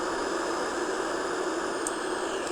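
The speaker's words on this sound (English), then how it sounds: "we have white noise" A Sharper Image sound machine plays steady white noise, a dense, even hiss that holds at constant loudness the whole time with no breaks.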